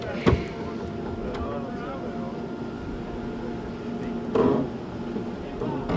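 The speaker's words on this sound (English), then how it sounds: "You can hear that pump whirring away and downstairs." Below-deck pump whirring on a racing sailboat at Hamilton Island Race Week: a steady mechanical hum under wind and water noise, with a couple of sharp knocks and faint crew voices.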